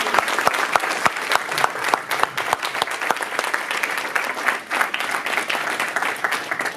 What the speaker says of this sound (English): let us wish Shalin a big welcome by giving him a big round of applause